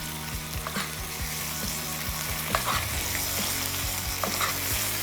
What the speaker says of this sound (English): you just take this and you just baste this over top of your steak